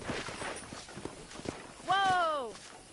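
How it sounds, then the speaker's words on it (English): Hooves of a horse in a Western ranch video game clip-clopping at a walking pace, quiet and steady under game dialogue, followed by a short whinny near the end. "I picked out a fine horse for you."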